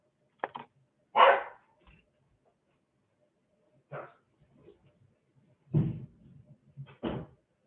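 A dog barks indoors in a room, giving several sharp, separate barks in short bursts with quiet pauses between them, fairly close.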